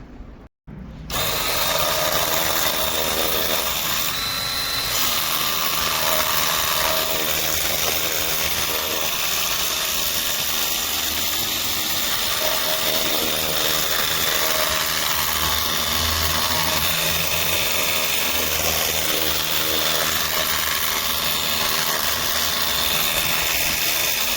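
A Leader Lite 20 V 28 bar high-pressure washer sprays water with a steady, loud hiss and motor drone that runs continuously after a brief start, with no talk over it.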